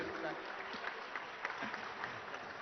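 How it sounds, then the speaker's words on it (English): Audience applause at a large summit event, a dense, steady patter of clapping that is faint and distant, mixed with some talk. "a louder round of applause will be great"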